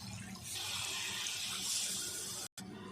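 Water poured from a cup into a pan for semolina halwa, a steady broadband splashing stream lasting about two seconds close by, briefly cut off near the end, with no talking.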